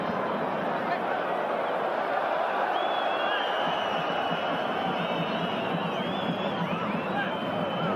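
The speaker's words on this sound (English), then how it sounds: "Few whistles in the crowd." Football crowd at an AC Milan versus Rijeka match in a stadium, a constant roaring hubbub with scattered thin whistles rising over it, under a commentator's speech.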